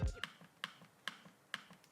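Touchpad of a realme Book Prime 14 laptop giving sharp mechanical clicks, five evenly spaced crisp taps at a steady rhythm, close but faint in a quiet room.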